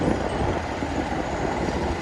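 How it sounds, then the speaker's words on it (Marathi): Dense road traffic heard from a motorcycle on an Indian city road, a steady loud rumble of engines and tyres with no talking. "ट्रॅफिक आहे रस्त्यावर"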